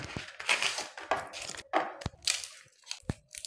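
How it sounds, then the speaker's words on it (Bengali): Chocolate grated by hand over a cold coffee in a home kitchen: scraping, crunchy strokes in short irregular bursts, close and moderately loud, with a few sharp taps between them. "একটু চকলেটকে গ্রেট করে দিয়ে দেবো এইভাবে"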